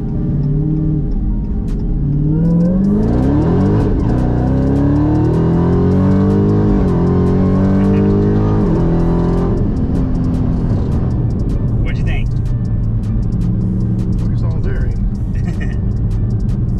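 A Dodge Demon high-performance car accelerates hard, its engine note climbing through repeated rising sweeps and gear changes, loud and close, before easing into a lower rumble.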